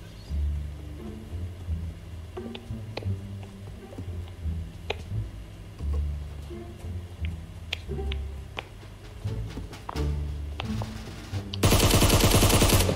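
Scoped rifle fire in the mobile battle royale PUBG Mobile on the Miramar map, scattered sharp shots at irregular intervals over a low background hum, ending in a loud dense burst.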